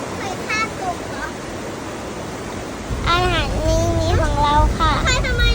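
A waterfall rushes as a steady broadband roar beneath a voice talking in short, lively phrases throughout.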